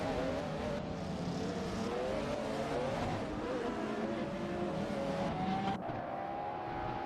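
Hypercars racing around the Road Atlanta circuit in a simulation game: engines rev and whine up and down as cars pass, layered continuously at moderate level with some tire noise, no voices.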